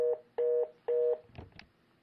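Telephone dialing tones on a call line: three evenly spaced steady beeps, each about a quarter second long, then a brief burst of faint clicking noise.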